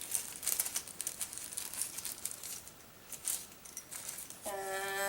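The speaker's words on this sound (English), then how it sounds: "So we've got this baggie. Let's rip that open." A plastic bag holding a phone tripod is ripped open with a burst of quick crinkles and tears up close, fairly quiet, followed by a short tonal rustle at the end.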